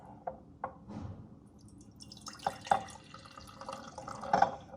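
Freshly squeezed orange juice is poured, heard close up as short liquid trickles and splashy drips, sparse at first and then denser, with no talking.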